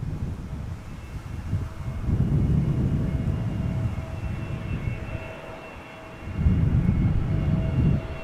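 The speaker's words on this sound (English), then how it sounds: "What you're picking up on the mic is an A320neo from EasyJet." An EasyJet Airbus A320neo airliner arriving at Amsterdam Schiphol airport on a summer evening: a steady, rumbling engine roar that swells and fades in waves, heard from a distance with wind noise on the microphone.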